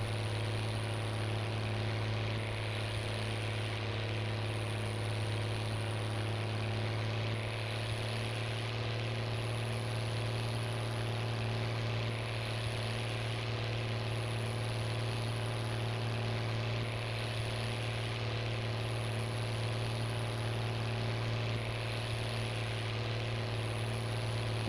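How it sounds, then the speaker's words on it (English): A tractor engine idles in the farming game Farming Simulator 19, a steady, unbroken low drone that holds at an even, moderate level throughout with no voices. "A lot of tractors pretty much like this one working. That's pretty much what they sounded like."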